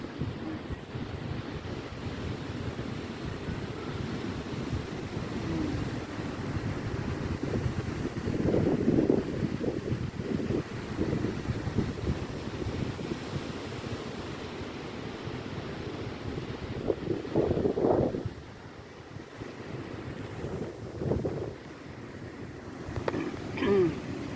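Low rumbling surf and gusting wind buffeting the microphone, with swells rising and falling throughout; faint voices surface now and then.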